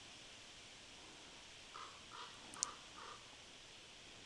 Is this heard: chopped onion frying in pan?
no